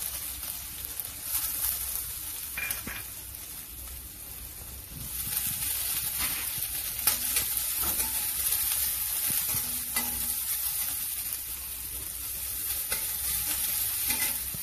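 Cumin seeds and crushed garlic hit hot oil with mustard seeds, a steady close sizzle that swells louder halfway through, with occasional scraping from stirring.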